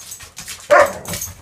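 A little dog barks sharply once, loud and close, then gives softer whimpering yips alone, with no talking.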